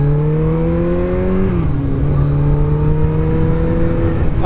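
A Kawasaki ZX-14R motorcycle accelerates hard in a 0-60 mph run, its engine whine climbing steadily, briefly dipping at a gear change, then rising again, loud and close.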